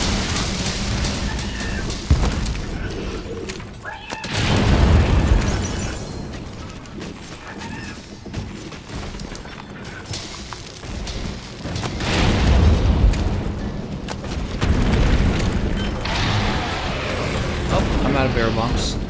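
Barrel bombs going off in Monster Hunter World, several loud booming bursts near 5, 12.5 and 15 seconds over busy game noise and clattering mechanisms, with a voice talking over parts of it.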